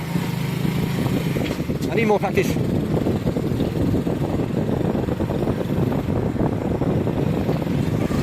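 A motorbike rides through a village in Pakistan, its engine droning steadily under heavy wind buffeting, with a rider speaking briefly over the noise.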